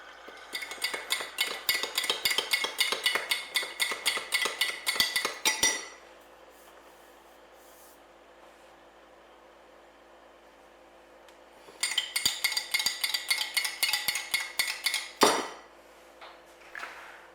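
Rapid metallic clinking of a spoon stirring boiling water in a cup, two bursts of about five seconds each separated by quiet, with a final louder clink.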